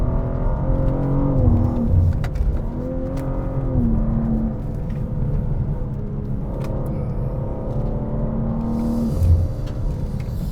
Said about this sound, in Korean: 엔진 사운드, 배기 사운드는 요즘 차들이 다 그렇지만 많이 억제시킨 티가 납니다.